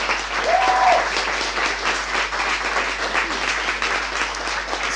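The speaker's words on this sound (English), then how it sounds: "let's a round of applause for our panelists" Audience applause at a panel discussion on smart cities, a steady full round of clapping from a room of listeners lasting throughout, with a brief faint voice near the start.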